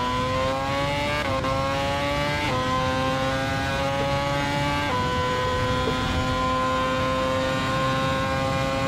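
A Ferrari race car engine in Assetto Corsa holds a steady high-pitched wail under full throttle, stepping up through several quick gear shifts, loud and continuous with no talk.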